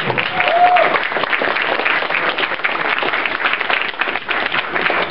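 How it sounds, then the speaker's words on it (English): A furry convention game show audience applauds loudly and continuously, a thick, even patter of many hands clapping with a few faint cheers mixed in. "Everyone give a round of applause, please."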